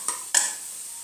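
Fried potatoes being stirred and cooked with spice masala in a pan, two short scraping strokes over a soft steady sizzle, close and fairly quiet, no voices.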